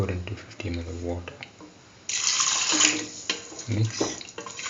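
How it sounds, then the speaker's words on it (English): Water pours steadily into a pot for a split chickpea yam stew in a home kitchen, a brief gushing stream lasting about a second in the middle of the recipe, with a voice speaking before and after. "Pour into 50 ml of water."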